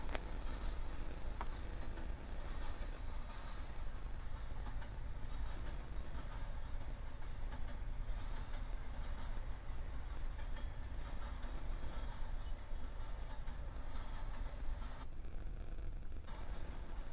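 A Norfolk Southern train passes Control Point LONG on the Atlanta North District, a steady, fairly loud rolling rumble and rail noise that fills the whole stretch without pause and is heard alone, with no talk.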